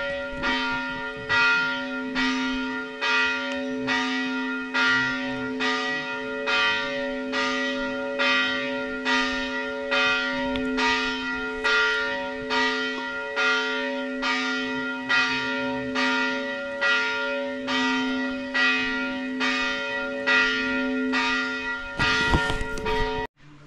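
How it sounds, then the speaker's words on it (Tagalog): Church bells ringing in a steady, repeated peal of about twenty strikes, each tone ringing out and overlapping the next at moderate distance, heard alone before a brief rustle at the end. "ang tagal humupa ng kampana"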